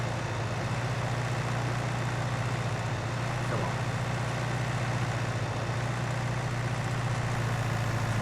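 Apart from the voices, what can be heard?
tractor running a baler pickup in Farming Simulator 19 video game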